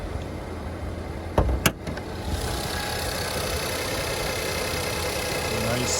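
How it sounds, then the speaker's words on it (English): A 2015 Ford Fusion Titanium idles smoothly with a steady low hum, close up, interrupted briefly by a couple of short clunks. "A nice smooth running engine."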